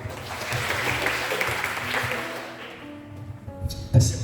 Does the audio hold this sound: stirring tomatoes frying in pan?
no